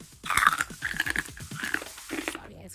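Crispy fried pork rinds chewed close to the mic, a quick series of loud, crackling crunches and bites that spreads over a few seconds.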